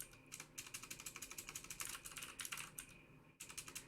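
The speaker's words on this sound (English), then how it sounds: "Not sure why I'm typing the word text in there," Rapid clicking keystrokes on a computer keyboard, steady and close, in a quick continuous run with a brief pause near the end before typing resumes.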